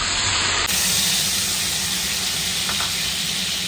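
Egg sizzling as it hits hot oil in a pan, a steady loud hiss and crackle that runs without a break throughout.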